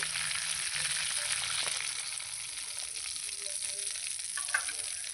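Hot oil sizzles faintly and steadily as whole dried red chillies and cumin are dropped in to temper mung dal, with light crackling pops over a constant hiss.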